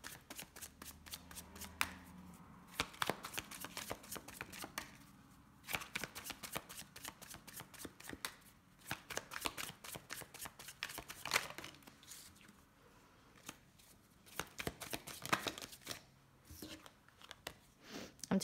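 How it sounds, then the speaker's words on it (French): Tarot or oracle cards are shuffled by hand close up, a continuous run of quick riffling and flicking bursts with short pauses between rounds of shuffling. "je ne vais pas laisser les cartes sauter aujourd'hui. Je vais les mélanger."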